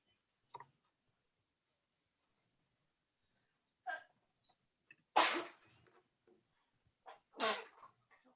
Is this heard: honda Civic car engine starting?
no